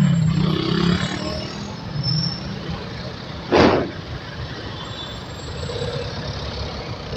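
Trucks roll along a road toward a private subdivision with no traffic lights, giving a steady broadband roar and one sudden loud burst like an air-brake hiss midway.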